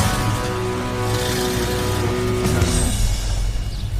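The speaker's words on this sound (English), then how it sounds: "I'd forgotten about the majesty of the FMT. This thing just cruises." Ford Muscle Truck cruising on the road, a loud, steady engine drone with rumbling exhaust that holds evenly from inside the cab and shifts slightly in pitch near the end.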